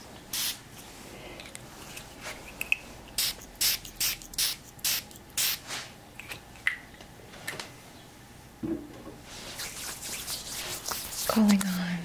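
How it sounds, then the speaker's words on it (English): A Douglas fir spray bottle is pumped in a quiet room, giving a string of about seven short, close hissing bursts with soft rustling between them. "Another spray, the Douglas fir."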